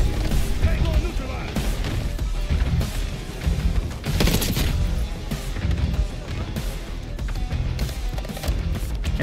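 AK rifle fire in Call of Duty Black Ops 6 on Veteran difficulty, dense bursts of shots and impacts mixed with explosions and battle noise throughout, loud and busy.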